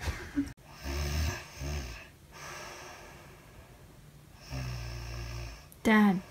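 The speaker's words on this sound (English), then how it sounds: "you're snoring" A man snores in heavy, rasping bursts, several long breaths with short gaps between them, loud and close, with a brief voice near the end.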